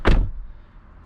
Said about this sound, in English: I'm gonna go ahead and shut this door